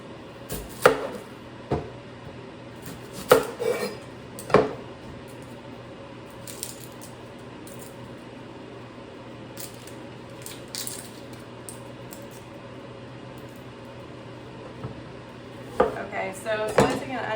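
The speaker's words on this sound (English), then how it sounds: "slicing 1 onion" A knife slices an onion on a cutting board in a home kitchen, with sharp intermittent taps and clicks spaced irregularly, close by and moderately quiet, among faint handling noises.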